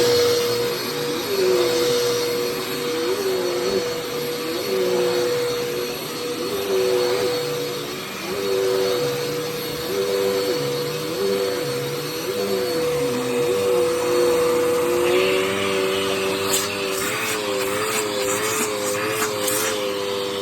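Dirt Devil Endura Express vacuum cleaner runs continuously with a loud motor whine that wavers in pitch as it is moved, steady airflow rushing underneath.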